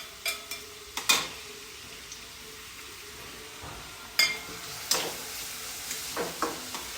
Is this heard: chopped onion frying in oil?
yes